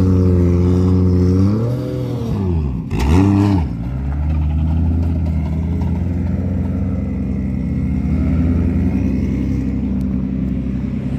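Drift cars at Ebisu circuit rev hard nearby. A loud engine climbs, dips sharply, then drops to a sustained, droning rumble as other engines run in the background.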